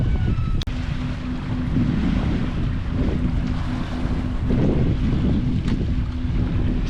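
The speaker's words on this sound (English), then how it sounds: "It's a little bit windy now." Wind blowing at the seaside at Rocky Point, Essex, on a breezy day: a continuous loud rumbling roar buffeting the microphone, steady throughout with no talk.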